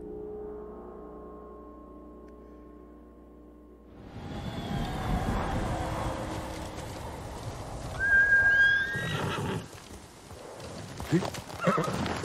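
A horse named Sora in the video game Ghost of Tsushima whinnies loudly and clops along after a quiet start, with a louder neigh near the end and someone talking in French over parts of it.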